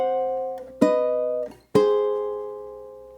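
Fingerpicked ukulele phrase for an eerie Halloween-style etude, moving downward in dissonant plucked notes toward an augmented chord, with two sharp attacks that ring out and slowly decay, played solo and close.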